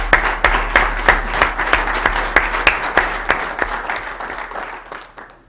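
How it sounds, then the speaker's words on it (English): An audience at a county meeting gives Commissioner Froh a loud round of applause, with dense clapping and sharp individual claps close by that taper off toward the end. "would you join me in giving our chair, Commissioner Froh, a round of applause"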